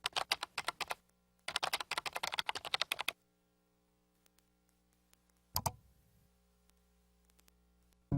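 Quick bursts of typing on a computer keyboard, dense clicking in two runs of about a second or more each, then a long quiet gap broken by a short clatter of keys near the end.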